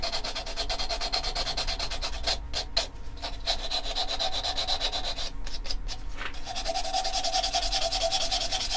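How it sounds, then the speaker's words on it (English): Steady, continuous rasping of sandpaper by hand on wood spinning on a lathe, a close, even rubbing hiss with a few brief pauses, no talking. "That's all it is, a little hand sand."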